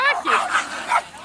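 A small West Highland White Terrier gives a few quick, high-pitched yips and whimpering barks close by, overlapping with nearby voices.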